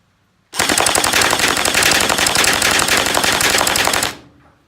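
A JM ACR J10 airsoft rifle on a 7.4 volt battery fires one loud, sustained full-auto burst of about three and a half seconds, a rapid even stream of shots that stops abruptly, heard alone.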